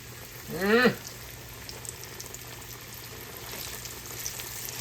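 Sliced yellow squash goes into hot grease, giving one brief loud hiss and bubble before settling into a faint, steady sizzle with no talking.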